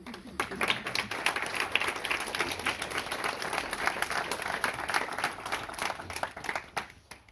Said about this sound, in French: Donc moi je voulais que vous vous applaudissiez quand même.